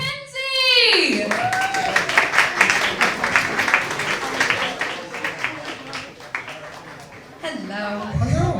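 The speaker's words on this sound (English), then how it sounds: "applause for James Mackenzie!" A convention crowd at Teesside Unleashed 2024 applauds actor James Mackenzie with dense clapping that swells and fades over several seconds, while voices and a call ring out at the start and end.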